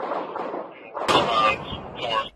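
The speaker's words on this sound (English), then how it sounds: "Got shots fired, somebody!" Gunfire erupts at a police standoff where officers face a man with a fake rifle: a sharp, loud burst of shots cuts through shouting voices.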